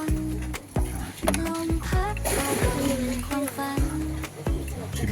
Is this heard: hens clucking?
no